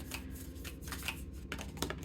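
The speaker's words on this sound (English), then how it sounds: "they're in the shape of a heart, so they are a bit hard to shuffle" Heart-shaped oracle cards are shuffled by hand, giving a series of quick papery riffles and soft flicks in bursts, close and fairly quiet.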